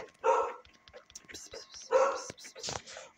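A dog barks twice nearby, two sharp close barks a couple of seconds apart, with a person talking in between.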